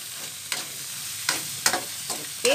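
Fried rice seasoned with pepper being stirred in a pan, with a steady low sizzle broken by several sharp scraping clacks of the utensil against the pan.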